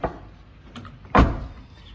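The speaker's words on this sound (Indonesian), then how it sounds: "Itu saja tips dari saya untuk menutup pintu mobil." A car door is swung shut, giving a single solid thud near the middle, preceded by softer handling clicks and rattles, close and alone without speech.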